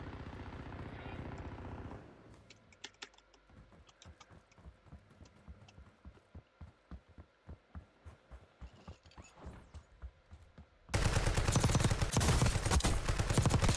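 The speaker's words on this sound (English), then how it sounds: "Let those two shoot at each other." Rapid bursts of gunfire crack and rattle in Call of Duty Warzone, with scattered shots at moderate distance in the middle and a dense, loud barrage at the start and end.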